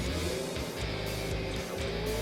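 A tractor engine runs steadily at moderate distance while sawmill logs are unloaded with its loader from a trailer at a hobby hardwood yard, a continuous low drone with slight rises and dips in pitch.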